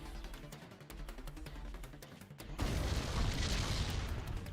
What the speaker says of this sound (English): Oh, you just took a rocket right to the face.